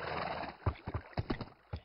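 A horse in the video game Minecraft, a brief noisy neigh at the start followed by several soft, evenly spaced hoof thuds, faint and alone without talk.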